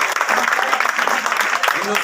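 An audience claps for the prize-winning teams at an open sports tournament's award ceremony. The applause is a dense, steady patter, heard under a speaker's voice.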